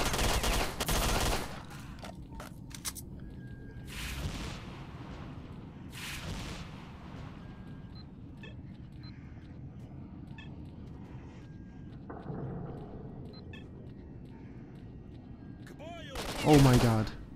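Gunfire in the video game S.T.A.L.K.E.R.: Shadow of Chernobyl during a firefight, with a few loud bursts near the start and end and scattered quieter shots between them over a low background rumble.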